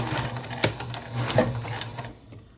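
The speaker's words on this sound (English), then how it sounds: "I'm just going to come down to that second marking. And I will do a back stitch." Sewing machine back stitching at a marked point while sewing a small snap pouch, a short steady mechanical whir with a sharp tick near the start, close and fairly quiet.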